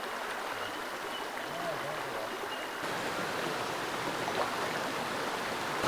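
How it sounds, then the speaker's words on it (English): Small waterfall on a creek below a bush hut in the Cells State Conservation Area near Port Macquarie, giving a steady, even rush of falling water that stays constant throughout, close by with no talk over it. "Made us to this little waterfall here just down from the hut."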